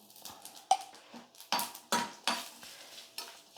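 A spoon stirring turmeric powder into tempering in a home kitchen pan, giving a run of light metallic clinks and scrapes against the pan at an irregular pace, with a faint sizzle underneath and no talking.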